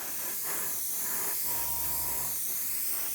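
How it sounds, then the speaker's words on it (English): MRP semi-gloss paint from an airbrush hisses in a steady, continuous spray onto a scale model, close and even throughout with a faint tonal whine in the middle. "just spray this one. You can see the paint going on."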